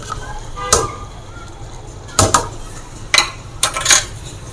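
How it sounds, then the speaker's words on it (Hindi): A spoon stirs a beef kofta mixture seasoned with cumin, black pepper and dried fenugreek, giving a handful of close, sharp clinks against the bowl: one, a pause, then small clusters of two. "इसको हम चला लेते हैं ऐसे।"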